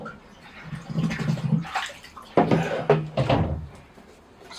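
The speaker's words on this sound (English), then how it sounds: "I'll give this base layer of soil a water just so it stays in place." Water poured from a can onto a base layer of soil in a bonsai pot while repotting a banyan-style dwarf schefflera, a close splashing, trickling wash of several seconds with brief pauses and small knocks.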